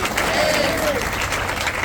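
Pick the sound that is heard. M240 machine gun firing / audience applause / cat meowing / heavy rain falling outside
audience applause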